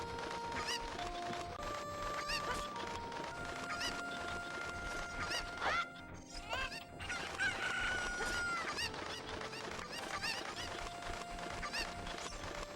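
Chickens in the video game Ocarina of Time cluck and crow in a steady stream of calls, layered over game music and ambient noise, with no talking.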